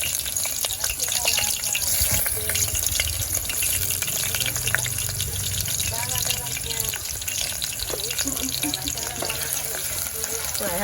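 Chopped onions fry in a pan for a Ugandan eggplant stew, a continuous close sizzle mixed with splashy, watery noise and a few faint stirring scrapes over about eleven seconds.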